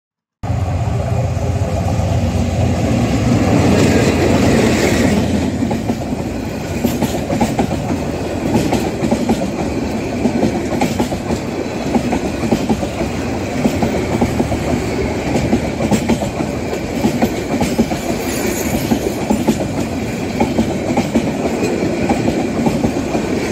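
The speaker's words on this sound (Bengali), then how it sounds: "রেলগাড়িকে ইংরেজিতে বলা হয় ট্রেন" A passenger train runs on rails with a loud continuous rumble and steady clickety-clack of wheels over rail joints, heard close throughout.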